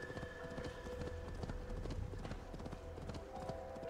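Horse hooves clip-clop steadily in Assassin's Creed Valhalla, a continuous run of close, rhythmic hoofbeats over a soft game soundtrack and ambience.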